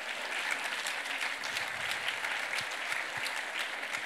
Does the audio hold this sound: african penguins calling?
no